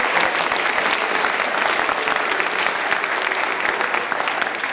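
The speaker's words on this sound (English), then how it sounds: "If we can give them a round of applause for all their work." Sustained applause from an audience honoring the English department teachers at a high school sophomore speech celebration for Martin Luther King Jr., steady dense clapping filling the room throughout with no voices.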